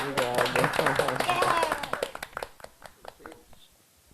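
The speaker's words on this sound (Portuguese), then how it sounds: "Palmas, querido." Audience clapping at a filmed talk, a burst of hand claps that thins into scattered individual claps and dies out, with speech and music-like tones overlapping at the start.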